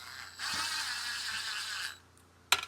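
Ratchet clicking as bolts on a second-generation MINI Cooper oil pan are hand-started, a steady close mechanical whir of pawl clicks lasting over a second, then a pause and a single sharp knock.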